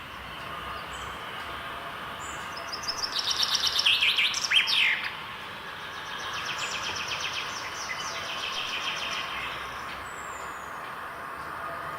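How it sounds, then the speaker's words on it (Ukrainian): Wintering birds chirp and sing in bright, rapid bursts over a steady low rumble, strongest in the middle and fading to softer calls afterward. "Це спів пташок."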